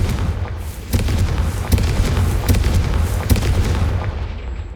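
A Confringo explosive spell in Hogwarts Legacy blasts out as a run of loud, heavy booms and crackling detonations over several seconds, dense and close, with no talking.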